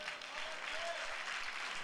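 A church congregation applauds during a pastors' gathering, producing a soft, distant and continuous patter of clapping with faint voices mixed underneath.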